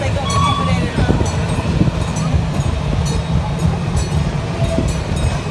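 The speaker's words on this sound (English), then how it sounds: "You are traveling on a quarter scale, exact replica of the 1893 Huntington train." A quarter-scale replica of the 1893 Huntington train rumbles steadily along its rails on a farm with faint rhythmic clacking, continuous and fairly loud, with a distant voice in the background.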